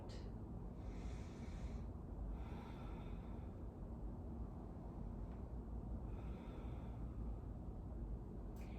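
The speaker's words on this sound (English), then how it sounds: "Breathing in and breathing out." Slow, audible breaths in and out during a yoga warrior pose, a few soft airy inhales and exhales spaced apart over a quiet hiss, faint and close.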